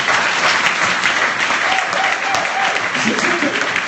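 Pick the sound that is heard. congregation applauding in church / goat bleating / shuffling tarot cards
congregation applauding in church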